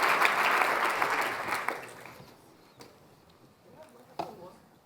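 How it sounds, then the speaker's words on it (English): Audience applause at a climate and health conference plenary, loud sustained clapping from a large crowd that fades out after about two seconds, followed by scattered faint sounds. "Can we have a big round of applause, everyone, for Jan as well?"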